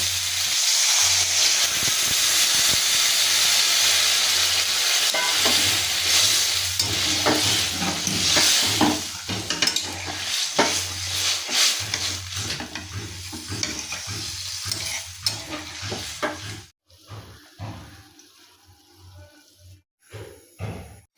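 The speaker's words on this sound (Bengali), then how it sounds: "এবার আমি এতে জল দিয়ে দেবো।" Water poured over sautéed onions and spices in a hot pan for an egg omelette curry, loud steady sizzling and hissing with stirring scrapes, fading to quieter bubbling near the end.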